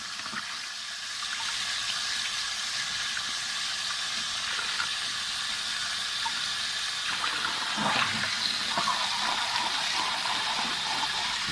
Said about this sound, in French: Donc nous allons évidemment vider et le rincer le tout à l'eau.